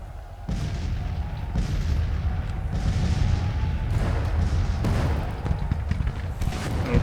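Sustained rumbling artillery fire with repeated booms from a Civil War strategy game battle, guns firing canister shot, dense and continuous at moderate distance with no talk.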